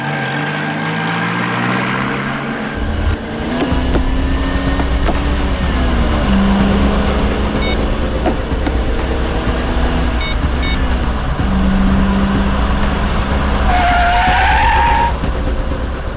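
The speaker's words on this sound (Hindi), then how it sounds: "जरा गाड़ी आराम से चलाओ।" A car drives fast with a loud roaring engine, tyres screeching in several long skids as it swerves, the noise steady and close throughout.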